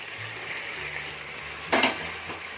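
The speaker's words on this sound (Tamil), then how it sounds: "இப்போ இந்த தக்காளி பழம் சேர்த்து நல்லா இது கூட மிக்ஸ் பண்ணி நல்லா வதக்கிக்கலாம்." Tomatoes and onions for mutton biryani sauté in a pan with a low, even sizzle, punctuated once by a brief, louder scrape-and-clatter of stirring.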